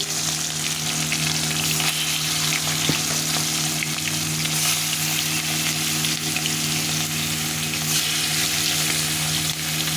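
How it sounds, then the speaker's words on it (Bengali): Fish pieces rubbed with salt and turmeric fry in hot oil, giving a dense, continuous sizzle that stays loud and close throughout, with no talking. "এভাবে করে মাছগুলো ভালো করে ভেজে নেবে"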